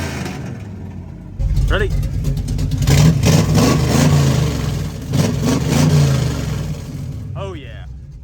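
Square-body truck with a 355 V8 and open exhaust cutouts revving hard in several deep, rumbling bursts, close and loud, with a person speaking briefly before the revs.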